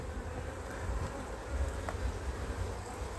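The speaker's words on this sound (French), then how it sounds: "les abeilles sont assez énervées" Agitated honey bees swarm around an opened hive in September, a dense, continuous droning buzz close by, steady with slight swells in intensity and no talking.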